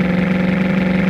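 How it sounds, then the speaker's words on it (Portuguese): A Volkswagen Beetle engine in a beta-stage Brazilian classic-car video game holds a loud, steady droning hum, with no pauses. "Acelerando forte fusquinha, galera."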